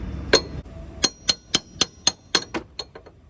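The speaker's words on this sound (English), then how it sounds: "with a bit of hammering, the lower arm has come off the body frame" Metal hammer blows striking a 1999 Maruti Zen's steel lower suspension arm to knock it free of the body frame: about nine sharp, ringing clanks in an uneven rhythm, close and fairly loud, with no talking.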